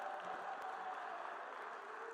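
A conference hall audience at a life sciences event welcomes a plenary speaker with applause, a soft, steady, distant rush of clapping lasting a couple of seconds without voices.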